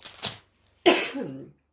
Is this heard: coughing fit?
yes